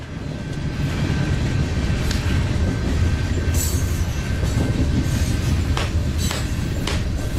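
A train rolls steadily along rails, a loud continuous rumble with faint squeals and scattered clicks from the wheels throughout.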